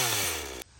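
A chainsaw bites into a coconut shell for under a second, a loud buzzing engine whine that drops off abruptly.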